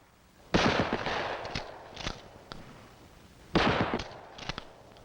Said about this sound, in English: Hip firing is used at close range, where most confrontations do occur.